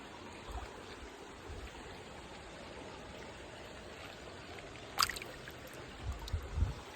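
A shallow creek flows steadily, with a soft, constant wash of water and a few brief splashes and knocks near the end, all fairly faint and without speech.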